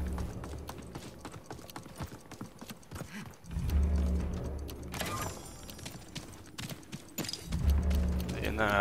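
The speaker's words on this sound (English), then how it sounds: "someone on a horse coming" Horse hooves clip-clop in the battle royale game Realm Royale as a rider approaches, with rhythmic hoof bursts swelling louder amid game noise while players talk over them.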